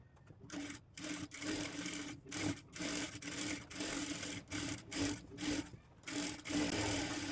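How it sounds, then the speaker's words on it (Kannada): A sewing machine stitches along a blouse piece in short repeated bursts, its steady mechanical whir broken by frequent brief pauses, close and fairly quiet with no voices. "ಇದೇ ರೀತಿ ಈ ಕಡೆಯೂ ಸ್ಟಿಚ್ ಮಾಡ್ಕೋಬೇಕು"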